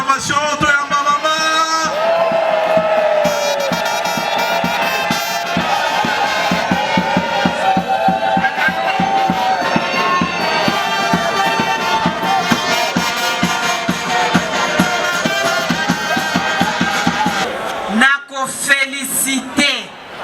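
Crowd at a political party's fifth-anniversary rally in Kinshasa cheering and acclaiming loudly and continuously, with shouts and yells over music-like din, then breaking off near the end.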